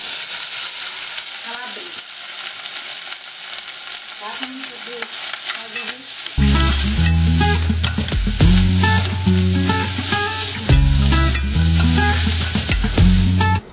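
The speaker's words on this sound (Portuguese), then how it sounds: "fritei a calabresa na mesma panela que eu fritei" Calabresa sausage sizzles and crackles loudly in a pan, with scraping and stirring clatters joining in partway through, close up and continuous.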